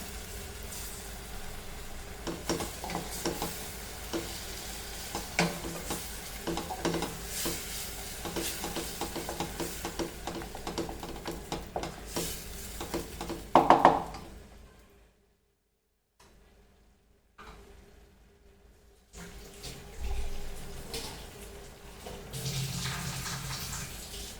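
Ground masala and coconut paste frying for a Goan coconut dal, a soft continuous sizzle broken by wet stirring and scraping, briefly dropping away before the sizzling and stirring return.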